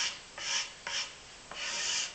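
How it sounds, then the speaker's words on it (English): A scraper pulls paint off a wooden surface in three rasping strokes, each one a short gritty scrape separated by brief pauses. The strokes are close and moderately loud. "so you would use a scraper"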